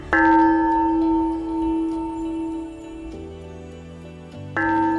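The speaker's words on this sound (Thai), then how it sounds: "นี่นะคะก็จะเป็นการตั้งโปรแกรมนะคะระฆังเตือนสติของเราค่ะ" A school mindfulness bell rings out clearly with a sustained, slowly fading ring, then sounds again near the end; no talking.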